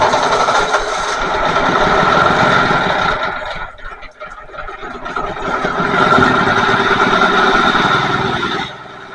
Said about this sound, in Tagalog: Ayos mga boss, umandar na nga ito.